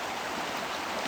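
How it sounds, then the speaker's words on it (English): Water flows down a stream through a flood zone on a trail, making a steady, soft broadband rush with no voices. "I am in a flood zone, but you can see the water flowing"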